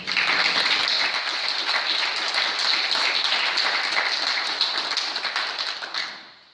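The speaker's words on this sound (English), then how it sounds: "So if we can give them a clap on that." Applause from an audience at a council oath of office ceremony, many hands clapping in a bright, steady stream that holds for about six seconds before tapering off at the end.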